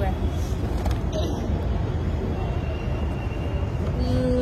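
Belapur metro station interior, with a steady, loud mechanical rumble of trains and station machinery filling the space and muffled voices mixed in.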